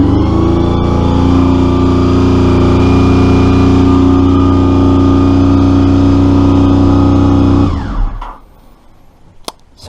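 A Honda VF motorcycle engine, with carburetor trouble, runs loud and close at a steady high idle with a strong droning hum for about eight seconds, then cuts out abruptly into near silence with a couple of sharp clicks.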